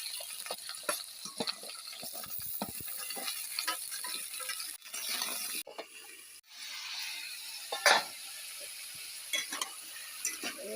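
Vegetables such as ridge gourd, potato and gourd frying in oil in a karai, giving a steady crackling sizzle with scattered clinks and stirring scrapes, close and moderately loud with no talk.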